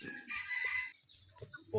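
A rooster crows once, a loud drawn-out call, followed by a few soft clucks and faint rustling nearby.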